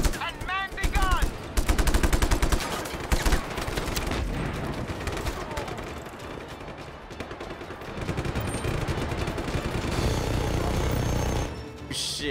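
A tower-mounted gun fires in Just Cause 3, sustained rapid bursts of loud gunfire over a busy rumbling game mix, with a voice briefly heard early on.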